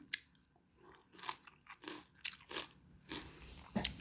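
Crunchy stems of minari-naengi greens bitten and chewed up close, a run of sharp crisp crunches in uneven bursts with quiet pauses between bites.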